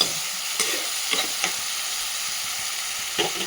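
Steady frying sizzle of onions in a pan, close and fairly loud, with a few soft stirring clinks and scrapes now and then.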